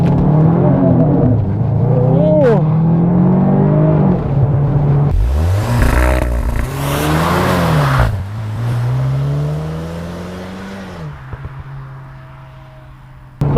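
VW Arteon R Shooting Brake pulling away under launch control on a slippery surface, the engine holding a steady high idle before surging loudly through rising revs and gear changes, then easing off, heard close from inside the car without talking.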